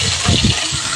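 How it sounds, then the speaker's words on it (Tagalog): Water gushes and splashes as it is poured into a cooking pan, a brief close burst with a couple of heavier surges. "lagyan mo na ng tubig yan"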